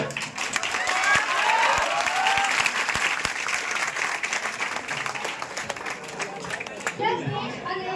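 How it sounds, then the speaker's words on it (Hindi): Crowd at an Independence Day celebration held by the civil engineering branch of G P Munger applauds loudly and steadily for about seven seconds, with chatter mixed in, then the clapping drops away to voices. "खुल के ताली बजाइए।"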